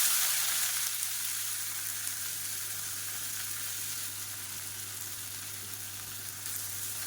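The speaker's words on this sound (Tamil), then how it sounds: "மெஷரிங் கப்பில் ஒரு கப் அளவுக்கு பொடியாக நறுக்குனா வெங்காயம் சேர்த்து" Chopped onions frying in hot oil with fennel for an egg curry, a steady dense sizzle that holds evenly throughout with no talk over it.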